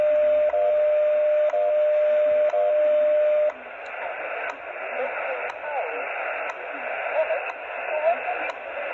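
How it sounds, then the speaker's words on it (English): Shortwave time signal stations WWV and WWVH received together on 10 MHz, with steady tone beeps and regular once-per-second ticks over a hissy band, then a noisy faded stretch where the carrier turns rough. "we're hearing WWVH from Hawaii, as well as WWV on 10 megs"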